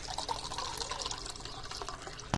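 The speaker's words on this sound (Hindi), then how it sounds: "भरता हूँ पानी।" Water runs briefly into a container indoors at home, a short rushing, gurgling fill at close range that ends with a small clunk.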